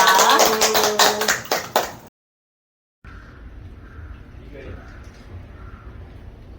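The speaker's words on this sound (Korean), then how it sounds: "자, 박수!" A small group gives a quick burst of hand clapping, loud and close, which stops abruptly, followed by silence and then quieter outdoor background with faint voices.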